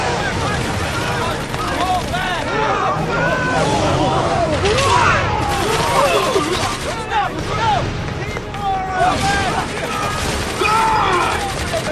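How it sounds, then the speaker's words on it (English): Rapid gunfire and blasts of a battle in the Final Fantasy XIII video game, dense and continuous throughout, mixed with shouted voices and other combat effects. "Suppressing fire!"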